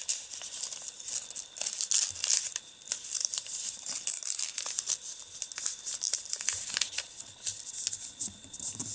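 Paper being folded into an origami lucky pouch, a continuous close crinkling and rustling with sharp crisp creases, handled steadily with no voice.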